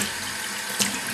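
Water running steadily from a tap while football boots are cleaned, a continuous close hiss with a brief louder splash near the end.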